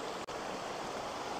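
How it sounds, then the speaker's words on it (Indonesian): Steady rushing water pouring into a fish pond inlet fed by a dammed river, a dense continuous roar like a small waterfall, loud and close with no voices. "Ini adalah sumber inlet terbesar atau sumber air yang masuk ke dalam lingkungan kolam seluas 3000 meter lebih."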